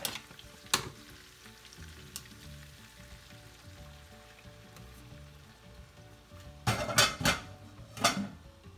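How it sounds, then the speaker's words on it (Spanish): Blended tomato, pepper, cumin and garlic liquid in a pot of simmering chicken for stew: a low bubbling simmer with a few clanks of a utensil against the pot, louder splashing and scraping near the end. "Le agregamos el líquido al pollo"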